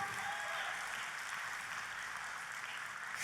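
Congregation applauding in a church service, a steady, fairly faint wash of clapping that holds evenly throughout with no voices.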